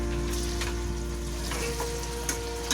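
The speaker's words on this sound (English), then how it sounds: "we have to fry these onions and stir it continuously so that it gets fried evenly" A large batch of onions frying on a high flame for chicken biryani, stirred continuously: a loud, steady close sizzle with occasional scraping stir sounds over a constant hum.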